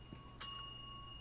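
A service bell struck once at a counter in a dark video game, a single bright metallic ding that rings on and decays slowly over a low steady background hum.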